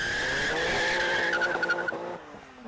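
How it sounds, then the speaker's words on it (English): A RUF RT-12 sports car with a 650-horsepower flat-six launches hard at full throttle at Lemoore. A loud, sustained engine and tire howl holds steady for about two seconds, then breaks up and fades. "This car launches with an authority you'd never imagine."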